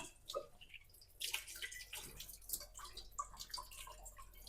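Water drips and trickles slowly from a newly installed tap in a new house, a close, uneven run of small splashes and droplets with no talking.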